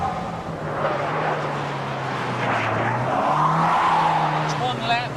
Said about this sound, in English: It's one lap at Thruxton Circuit in a Montego Turbo.